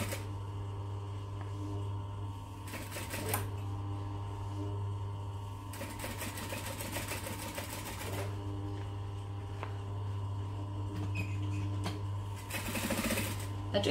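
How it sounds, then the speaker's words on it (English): A sewing machine top stitching around the edge of a messenger bag at an eighth of an inch, its steady motor hum and rapid needle clatter running close and continuous, with brief faster bursts. "I'm going to top stitch around the edge at 1/8 of an inch"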